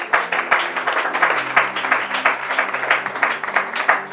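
Applause breaks out in a church congregation during a French Bible teaching, many hands clapping in a dense, steady patter of sharp claps that carries on throughout.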